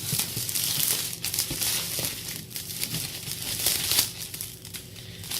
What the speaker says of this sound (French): Alors, je vous déballe tout ça.